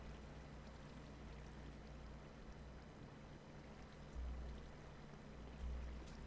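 Flowing water in the Minecraft video game gives a steady, soft, continuous rushing wash with no speech, and two brief low swells near the end.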